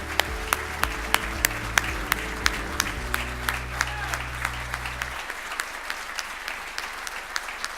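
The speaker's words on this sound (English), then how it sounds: "give you a round of applause that you so richly deserve" An audience at a military spouse employment event claps in a steady, evenly spaced rhythm over a sustained musical backing that cuts out partway through, leaving the clapping to continue alone.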